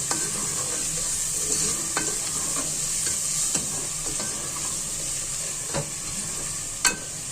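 Spinach and beef curry is sautéed in a pan, a steady hissing sizzle broken by several sharp stirring clacks and scrapes, close and without speech.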